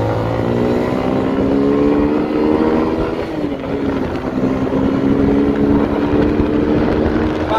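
A small engine runs steadily and loudly throughout, a continuous droning hum with a slight dip in pitch midway.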